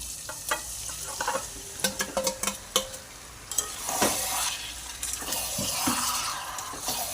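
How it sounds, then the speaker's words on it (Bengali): Marinated chicken added to a thick, sizzling gravy for Kolkata-style spicy chicken kosha and stirred in a pan; sharp spoon scrapes and clinks come in bursts over a constant frying hiss, close by. "এবার আমি ম্যারিনেট করা চিকেনগুলো এর মধ্যে দিয়ে দিচ্ছি।"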